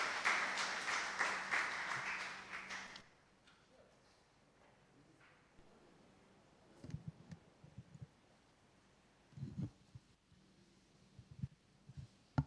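A church congregation claps together at a Sunday service, a dense burst of applause that fades out after a few seconds, followed by quiet room sounds with scattered soft knocks.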